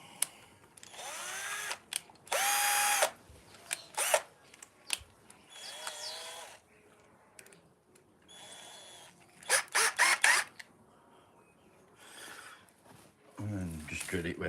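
Several short bursts of a power drill whirring through wood at close range, interrupted by pauses with background talking and rustling between them.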